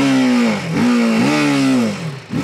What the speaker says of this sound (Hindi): साइलेंसर का साउंड भाई, ये single cylinder high compression engine और साउंड